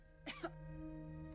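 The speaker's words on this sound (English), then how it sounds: "I cough." A single short cough, close and dry, over a steady low hum, followed by quiet.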